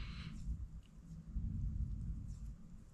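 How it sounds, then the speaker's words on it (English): Distant thunder rolls as a low, uneven rumble through most of the moment, faint overall, with a brief higher hiss at the start. "That was a good thunder. Maybe you could hear that one."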